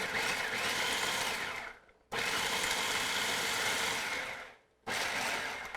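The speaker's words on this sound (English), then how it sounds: "So I'm going to start to pulse this in the food processor" A food processor pulses walnuts for raw vegan taco meat, roaring loudly in two long bursts, each tapering off briefly before the motor kicks back in.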